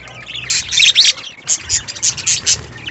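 Parakeets in a breeding colony aviary chirp busily, with many close, loud bursts of overlapping high tweets in quick irregular succession.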